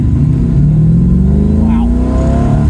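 An MGB GT factory V8 pulls hard from inside the cabin, its loud engine note rising steadily in pitch through the gear as the car accelerates, with a brief voice in the middle.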